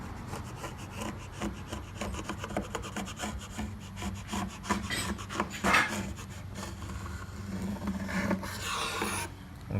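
A sharp chisel scrapes dried glue off a wooden table top in repeated rasping strokes, close and fairly loud. A few heavier scrapes fall near the middle and toward the end.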